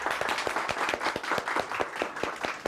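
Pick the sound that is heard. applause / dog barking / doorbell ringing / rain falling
applause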